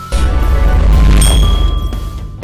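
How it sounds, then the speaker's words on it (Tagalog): A notification bell ding rings out with a bright sustained tone, a second chime entering partway through, over a dense low rumble of background sound. "pakiclick na rin sa bell button"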